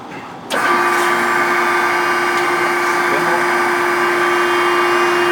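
An Okamoto 16 x 32 surface grinder spindle spins up after a brief quiet start, then holds a loud, steady motor whine with a strong constant tone for several seconds.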